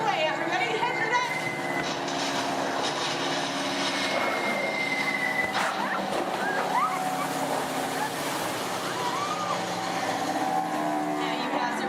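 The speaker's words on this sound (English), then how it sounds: "You hear more enemy planes approaching. You point to the sky because you see bombers coming in from 12 o'clock." Theme park show effect of enemy bomber planes approaching, a dense continuous engine rumble with whooshes and rushing noise, loud and immersive, with people talking over it.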